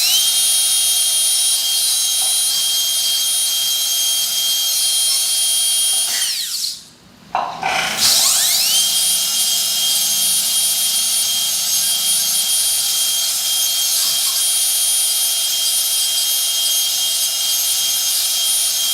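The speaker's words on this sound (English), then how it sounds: "So this is the last segment of the burr that we are using." A high-speed dental drill with a bur cuts an access cavity in a maxillary central incisor: a loud, piercing continuous whine that winds down, stops briefly, then spins back up and holds steady.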